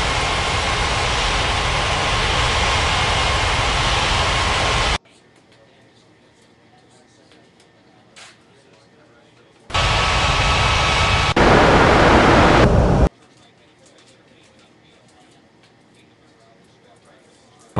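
Jet airliner engine roar from an air traffic control game at Bali's Ngurah Rai airport, a loud steady rush that cuts off abruptly, later returning for a few seconds with a brighter burst before stopping again.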